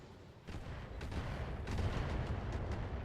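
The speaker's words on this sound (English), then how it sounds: "Here comes all the missiles" Missiles striking a mech in the video game BattleTech, a rapid series of booming explosive impacts that build into a rumbling barrage.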